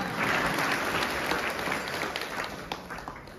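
Audience applause at a kirtan at Chhatrapati Shivaji Chowk in Hupari: a dense, steady wash of many hands clapping together, loud and sustained throughout, easing only slightly toward the end, with no voices over it.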